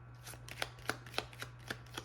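Cards being shuffled close up, a quick series of crisp riffling flutters over a steady low hum, with no talking.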